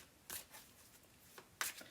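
Oracle cards being shuffled by hand, two brisk riffling bursts a little over a second apart with quiet handling between, close and soft, no talking.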